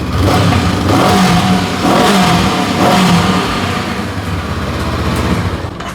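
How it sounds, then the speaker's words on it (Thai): A powerful big bike engine revs loudly and steadily up close, holding a rough, throaty roar for several seconds before easing off slightly at the end. "มาฟังเสียง สตาร์ทติดง่าย รถใหม่ครับ"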